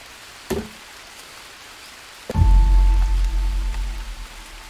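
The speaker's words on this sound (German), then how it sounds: "es regnet, es regnet" Rain in the survival game Green Hell, a soft hiss of falling drops at first, then a sudden loud, low rumbling downpour that swells in and keeps pattering heavily to the end.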